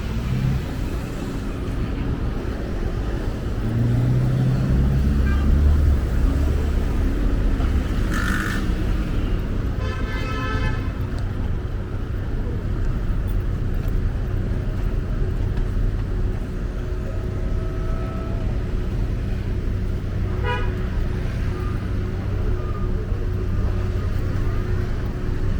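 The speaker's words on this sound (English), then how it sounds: "it's a very busy area, a lot of traffic jam" Steady rumble of cars and engines in heavy street traffic on Gun Hill Road in the Bronx on a hot summer day, continuous and close, with a few faint tonal blips; no clear horns.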